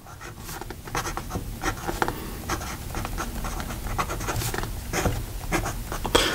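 Lamy All-Star fountain pen with a fine nib writing on paper, a close continuous scratchy rasp made of quick strokes, with no talk.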